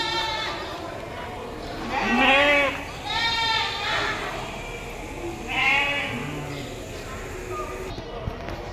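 Goats bleating at the Deonar goat market, several separate wavering calls from nearby animals over crowd murmur and background voices.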